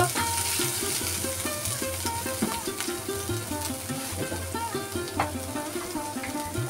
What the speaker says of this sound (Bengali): তো আদা দিয়ে একটু কষিয়ে নেব।